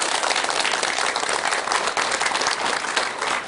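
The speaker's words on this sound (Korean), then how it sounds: "힘난 박수 한번 주세요." An audience gives dense, sustained applause, many hands clapping together at a steady loud level from start to finish.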